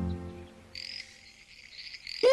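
A frog croaks in the wild. A sustained, high, buzzing trill runs for most of the moment and ends in a sudden loud, close croak, with no voices.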